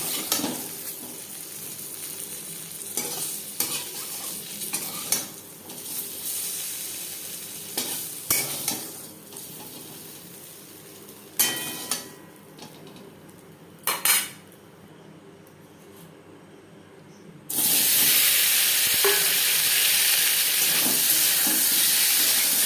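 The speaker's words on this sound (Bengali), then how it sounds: "আলু ভেজে নেব" Potatoes fry in a pan while a spatula scrapes and clinks against the metal in irregular bursts over a low sizzle. Near the end a loud, steady hiss of hot oil takes over.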